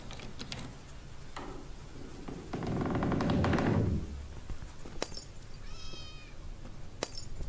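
A cat meows inside a horror video game, a short clear mew heard among scattered clicks, a brief noisy burst and other game sounds, with no talking.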